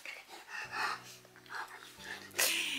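Dog panting rapidly and rhythmically close to the microphone indoors, with a brief whimper and a low hum in the background, ending in a louder breathy burst.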